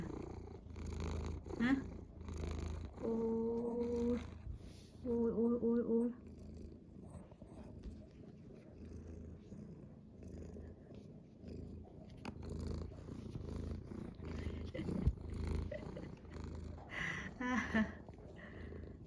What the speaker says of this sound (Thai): แมวจำศีล